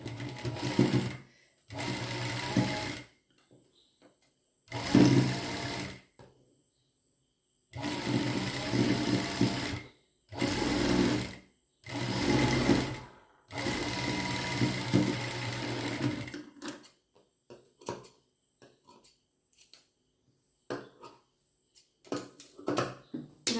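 A sewing machine stitches lace onto fabric in several loud, steady bursts of a few seconds each, with pauses between them, then only faint handling clicks toward the end.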